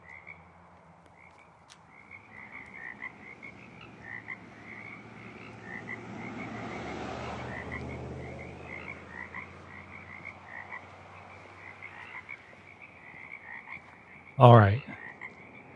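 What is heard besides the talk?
frog croaking sound effect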